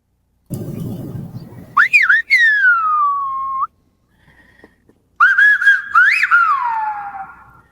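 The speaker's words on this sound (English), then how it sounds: "He's just a pervert whistling at a girl walking by." Sharp finger whistles from a man in a 1984 movie scene aimed at a passing woman, two loud rising-and-falling calls separated by a pause, each sliding up then trailing down, with faint low rumble before the first.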